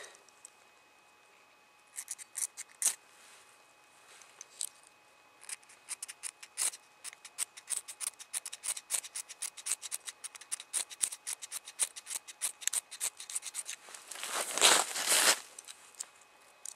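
Repeated scraping strikes of a flint and steel fire starter while lighting a pile of wood tinder outdoors, a steady run of sharp rasping scrapes that grows denser and louder into a burst near the end, with no talk.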